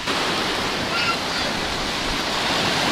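Sea waves off a Spanish beach wash in a continuous, broad roar, close and steady throughout.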